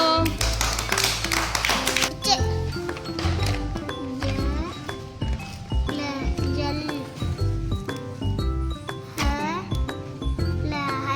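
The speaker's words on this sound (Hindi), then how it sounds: "वेरी गुड, ताली मारो।" Children in a primary classroom clap their hands together, giving sharp, quick taps in short bursts. The clapping is close and fairly loud, and a few voices speak between the bursts.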